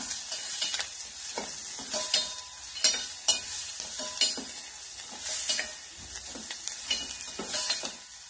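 Onion frying in a pan while being stirred: continuous bright sizzle with repeated scraping stir strokes at an irregular rhythm, close and moderately loud, no voices.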